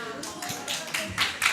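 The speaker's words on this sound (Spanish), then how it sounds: "Un aplauso a él." A short burst of audience clapping, lively and close, swelling in uneven waves over a second or two.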